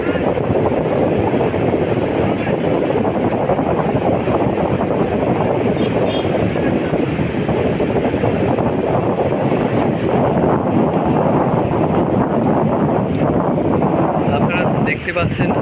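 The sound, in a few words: rough sea waves at Himachari Beach with wind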